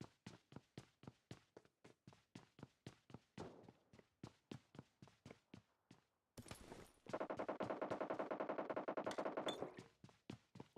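Gunfire in PUBG Mobile during a pro women's league match: a steady run of single distant shots at first, then after a brief gap a dense rapid automatic burst, louder and continuous for several seconds.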